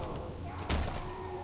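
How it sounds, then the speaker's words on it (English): A single heavy thud lands on a door in the horror video game Amnesia: The Dark Descent, a brief low-pitched bang against a quiet, hissing ambience. "Why are you banging on the door?"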